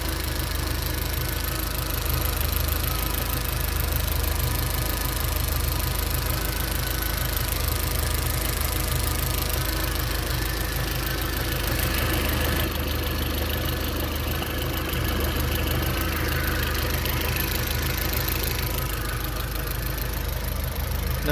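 A 180bhp Audi TT mk1 Quattro idles steadily after a camshaft cover gasket change, its engine ticking over with a continuous even rumble and faint rhythmic tapping that stays close and loud for the whole stretch, with no talking.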